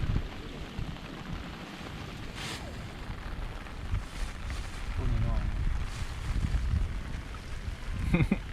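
Steady rain hisses and patters on a surface throughout, with faint voices and occasional knocks mixed in.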